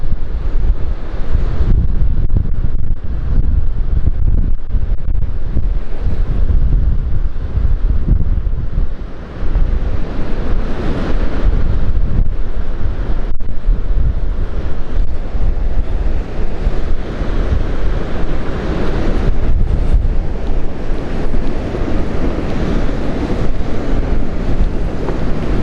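Strong wind gusts roar and buffet the microphone at a seaside quay with slippery cobbles, a steady loud rush with waves and surf beneath it, continuous and close throughout with no talking.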